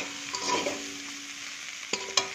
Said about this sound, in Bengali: এবার ভালোভাবে এটাকে কষিয়ে নেব, জলটা টেনে যাবে।